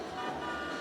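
Car horn honking twice in a video game, steady and fairly loud over a constant layer of engine and street noise, no talking.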